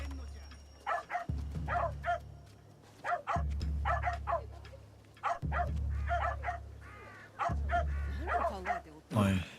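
A dog in Assassin's Creed Shadows barks in short bursts several times, each volley followed by a pause, with a brief whimpering yip near the end and a faint low hum underneath.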